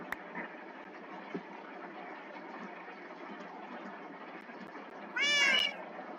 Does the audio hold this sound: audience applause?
no